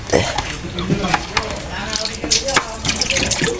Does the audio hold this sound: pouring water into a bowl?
yes